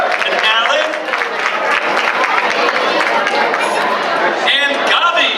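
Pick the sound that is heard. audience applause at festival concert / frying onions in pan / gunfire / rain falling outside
audience applause at festival concert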